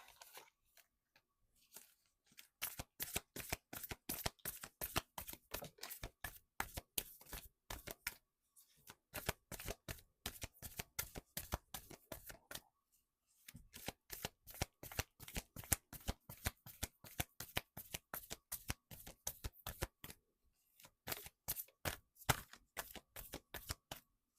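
Oracle cards are shuffled close up in quick repeated bursts of crisp riffling flicks, broken by short pauses, with no talking.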